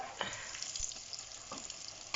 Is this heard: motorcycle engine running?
no